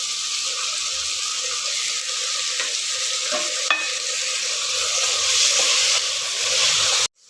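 Ground shallot paste sautéing for Tamil chicken curry: a constant loud sizzle with a few soft stirring scrapes, close up, ending abruptly, no voices.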